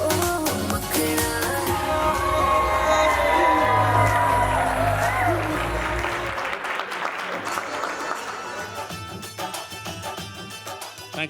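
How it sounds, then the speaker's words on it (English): Applause from a sangeet audience right after a Hindi song, loud and sustained clapping with a few whoops and shouts, thinning slightly toward the end. "Let's give Sona another big round of applause, everyone."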